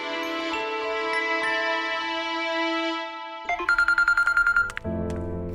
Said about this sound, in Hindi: मैं आपके मोबाइल से कॉल कर सकती हूँ?